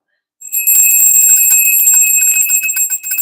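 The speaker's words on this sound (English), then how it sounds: "Solar plexus bell" A bright metallic solar plexus bell is struck once and rings on with a sustained shimmering tone, close and clear, slowly fading.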